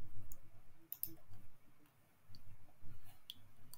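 A computer mouse clicks a few times at close range while selecting in Solid Edge CAD software, sharp isolated ticks over a faint background hum.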